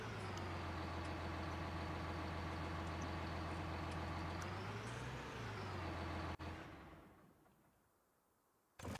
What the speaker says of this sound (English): If the tractor's too loud, just let me know.